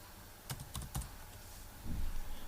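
A few sharp clicks as a formula is typed on a computer keyboard, two or three quick keystrokes followed by a softer thump, close and fairly quiet, with no talking.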